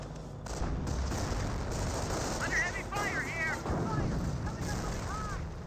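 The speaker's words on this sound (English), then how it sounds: "More Warfermen Barrage here." Wurfrahmen rocket barrage in Company of Heroes, a dense continuous roar of launches and blasts filling the whole stretch, with whistling streaks rising and falling over the rumble.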